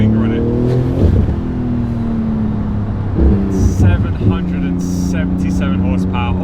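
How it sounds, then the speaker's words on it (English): A Porsche 911 GT2 RS with 777 hp on a tight, narrow back road. Its loud engine drones and rises through gear changes, with brief whooshes and chatter near the end, and a voice talks over it. "777 horsepower on what is a very tight and narrow back road. It's just evil, this car."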